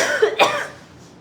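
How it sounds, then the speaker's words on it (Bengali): An indoor cough rings out close and loud as one sharp burst, with a short throaty rasp just before it, and then it quickly fades away. "হঠাৎ করে অনেক কাশি আসছিল"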